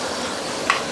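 Soft-cooked onions, sweated about ten minutes with ginger and garlic for a paya curry, sizzle steadily in a pan, with a single brief scrape of a stir near the end; no talking.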